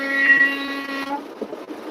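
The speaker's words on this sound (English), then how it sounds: "I wonder if I honk my horn" A big rig truck's air horn blasts a loud, tonal honk for about a second while the truck drives across the country, then cuts off, leaving cab rumble and road noise.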